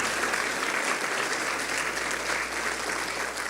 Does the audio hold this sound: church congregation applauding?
yes